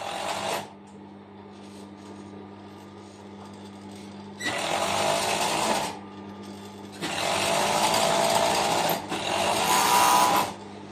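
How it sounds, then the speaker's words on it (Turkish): An overlock machine sews pajama seams in three bursts of fast, whirring stitching, close and loud, separated by quieter pauses where a low motor hum remains. "ben overlock'ta dikiyorum pijamamı"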